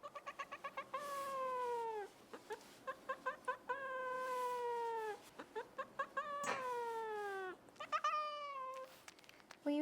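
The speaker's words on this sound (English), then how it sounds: "I guess that's her warning meow." A cat being combed lets out a long series of repeated meows and drawn-out yowls, some rising into caterwauling, close and fairly loud with only short gaps between calls.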